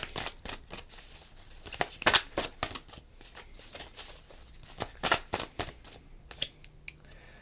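Tarot cards shuffled and drawn in a reading: a quick series of crisp riffling flutters and slaps, close and fairly quiet, with no talking.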